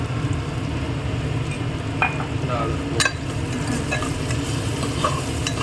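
Sambar rice is stirred in a pot, giving a dense, steady bubbling and sizzling bed broken by occasional spoon scrapes and knocks against the metal.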